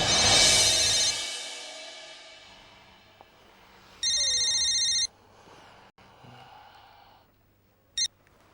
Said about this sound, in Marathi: सदा काय झालं रे इतक्या रात्री फोन केलास